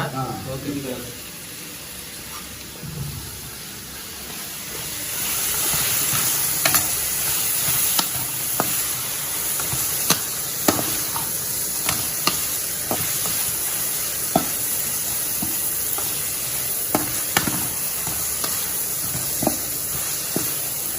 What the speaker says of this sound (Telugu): ముందు బాగా ఏగాలి కొంచెం పసుపు వేసుకోవాలి